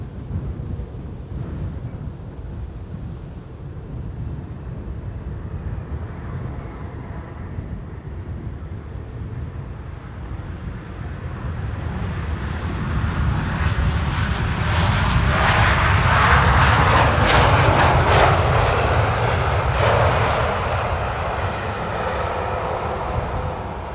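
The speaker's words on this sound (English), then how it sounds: "KLM flight 668, arriving from Austin, Texas, is about to land here." A KLM Boeing 787-10 Dreamliner comes in to land at Amsterdam Schiphol on a sunny, crosswindy day, its engine roar swelling from a steady distant rumble to a loud, broad rush before easing slightly, with wind buffeting throughout.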